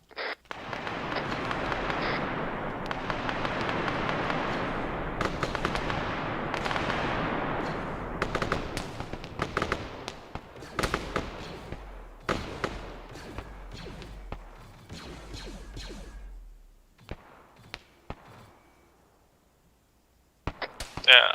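Gunfire in a Star Wars skirmish in ArmA 3: dense bursts of automatic fire that thin out into scattered loud single shots, with talk during the firing.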